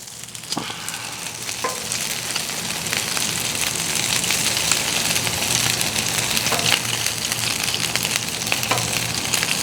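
Meatballs sizzle steadily in sauce on a hot Blackstone griddle, a loud, continuous crackling fry with occasional sharper pops and light utensil taps, with no voices.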